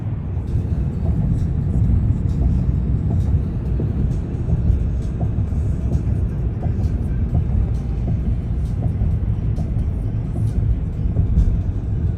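Car interior while driving to the airport, a steady low road rumble and engine drone throughout, loud and even with faint higher rattles, nobody talking.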